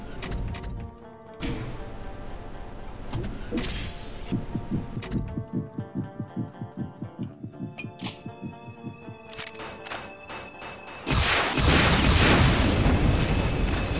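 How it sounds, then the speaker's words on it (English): Rhythmic low thumps and throbbing sounds in Brutal Doom V19 build up, then a loud rumbling burst of explosions erupts near the end. "Look at that. Explosions."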